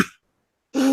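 A person clears their throat in a short, close burst at the start, then a second, louder throat-clearing cough after a brief silence, during tabletop RPG character creation.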